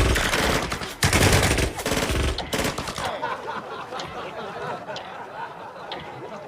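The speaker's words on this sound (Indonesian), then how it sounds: "Para tentara itu pun bersiap dan langsung menembakkan senjatanya." Soldiers fire rifles and machine guns in a dense burst of loud gunfire lasting about three seconds, then a noisy murmur of voices and laughter continues in the background.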